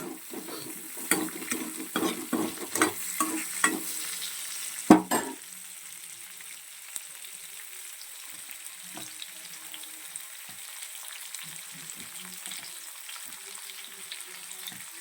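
Onions frying in oil for paneer tikka masala, with a string of brisk stirring scrapes early on, then a quieter steady sizzle that continues alone, close by.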